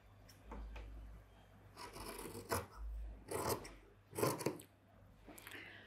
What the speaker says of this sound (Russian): Как бы я больше доверяю ножницам.